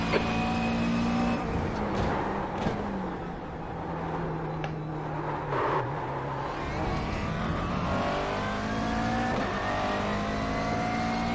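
Engine roaring steadily in a GT race car in a racing game, with continuous tire scrubbing and squealing from understeer as it corners, gear changes shifting the pitch.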